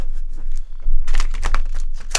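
Cards of a Light Seers Tarot deck riffled and shuffled by hand, giving crisp papery crinkling and flicking bursts that get busier and louder partway through.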